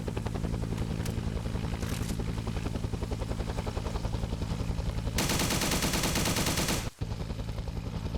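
Sustained automatic gunfire rattles in a Vietnam War video game, dense rapid bursts over a steady mechanical drone, loud and continuous with a brief cut near the end.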